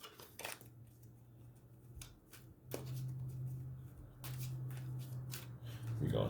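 Tarot cards are shuffled in quick bursts of crisp riffles and flicks, up close, with a low hum running underneath.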